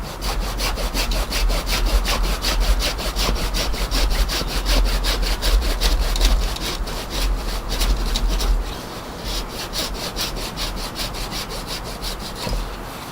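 A hand saw cuts through a large branch of a pre-bonsai tree during winter pruning, with steady rapid back-and-forth strokes that rasp loudly and continuously, then ease off slightly near the end of the cut.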